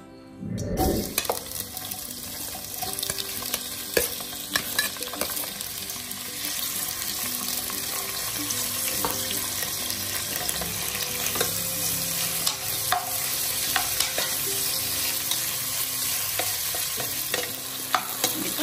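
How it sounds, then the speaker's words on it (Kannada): Onions fry in hot oil for avarekalu rice bath, a steady close sizzle with sharp stirring clicks and scrapes scattered throughout; no talking. "ಈರುಳ್ಳಿ ಇಷ್ಟ ಆಗಲಿ, ಅರ್ಧಂಬರ್ಧ ಫ್ರೈ ಆದರೆ ಚೆನ್ನಾಗಿರುತ್ತೆ."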